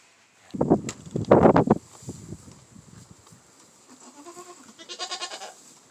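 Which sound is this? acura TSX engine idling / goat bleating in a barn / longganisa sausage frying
goat bleating in a barn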